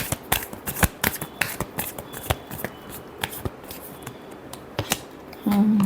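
Tarot cards being shuffled by hand in a quick run of crisp riffling slaps and flicks, close and fairly loud, ending with a short low hum.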